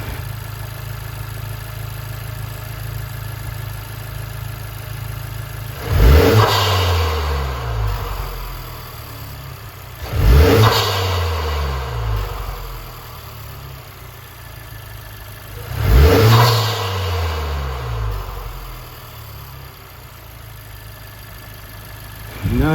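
A 2020 Honda Civic Type R fitted with a PRL Stage 1 intake idles steadily, then revs sharply three times, each blip rising quickly and falling back to a low idle, close and loud.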